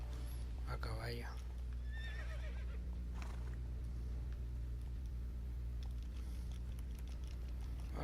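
A horse in The Witcher 3 whinnies briefly near the start, then hooves and a deep steady rumble continue close by under quiet talk.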